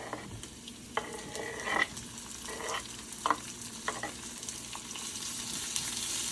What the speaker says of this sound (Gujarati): હવે ઓનિયનને બરાબર મિક્સ કરી લઈશું અને એને પણ લાઇટ બ્રાઉન થવા દઈશું